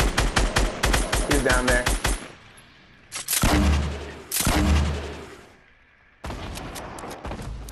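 Rapid bursts of automatic gunfire in Fortnite, loud and close, with a fast rattling volley followed by heavier separate blasts and short pauses, while a player speaks briefly in between.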